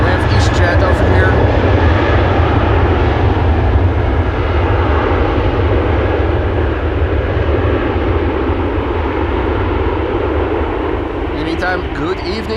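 A KLM airliner lining up on the runway at Amsterdam Schiphol Airport, heard as a loud, steady engine roar that holds for the whole stretch, with a voice talking over it.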